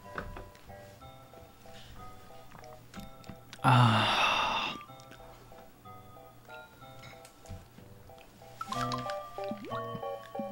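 A person takes one gurgling swig of Aquafina water from a bottle, then breathes out a satisfied sigh, with faint music playing throughout.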